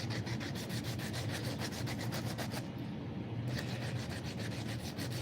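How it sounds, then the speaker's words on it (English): Rhythmic hand sanding of a knife, quick back-and-forth scrapes on a surface, close and steady, with a short pause partway through before the strokes resume. "Sorry the hand sanding is so severe"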